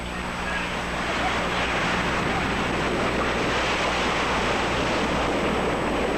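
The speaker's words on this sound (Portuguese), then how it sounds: "O litoral de Massachusetts e do Maine, na costa atlântica, está sendo atingido por uma ressaca com ondas de mais de 5 metros de altura." Storm-surge waves over five metres high pound the Massachusetts and Maine shoreline on the Atlantic coast, a dense, unbroken roar of surf and wind buffeting the microphone, loud and close throughout.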